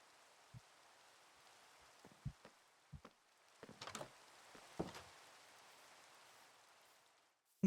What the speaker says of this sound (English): Not dealing with that rain.